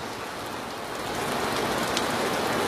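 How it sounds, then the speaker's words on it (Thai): Steady rain falls during a cool-season shower as a dense, even hiss of drops that swells slightly louder toward the end, with no voices. "ฝนตกเป็นเรื่องปกติ"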